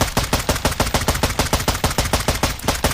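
Rapid automatic gunfire from hip firing in a video game, with a long, even burst of about thirty sharp shots at a fast, machine-like rhythm, loud and close with no pauses.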